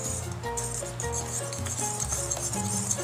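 A utensil stirs seasonings in a bowl, making light repeated clinks and scrapes close up over a steady background hum.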